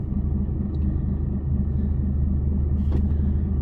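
A Mercedes Actros HGV truck pulls away from a standstill on an industrial estate by the docks, a deep, steady diesel rumble heard up close from inside the cab.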